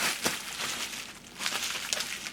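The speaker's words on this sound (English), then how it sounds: "I'm storing it in its original bubble wrap" Bubble wrap wrapped around a dye-sublimation photo printer crinkles and rustles in bursts with a few sharper crackles, close by and with no voices.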